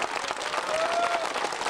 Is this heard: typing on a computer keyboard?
no